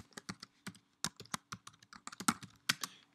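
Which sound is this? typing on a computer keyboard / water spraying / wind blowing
typing on a computer keyboard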